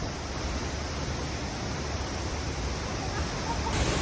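Rushing water of a waterfall at Rasa Falls, a steady broadband roar that stays loud and constant throughout, with no clear speech over it.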